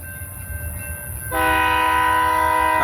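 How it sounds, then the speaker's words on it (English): A second BNSF train rumbles in the background before its horn suddenly sounds, a loud, sustained multi-tone chord that holds steadily to the end. "And there's another train coming already."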